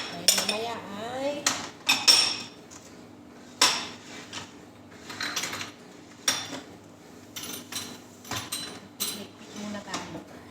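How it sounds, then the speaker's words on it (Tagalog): Used plates and cutlery being cleared in a home kitchen: repeated clinks and clatters of dishes and silverware come in separate bursts, close by, while someone talks between and over them. "Ligpit muna tayo ng mga plato na ginamit nila."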